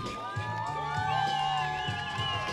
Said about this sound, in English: And the crowd loves it. The fans love it.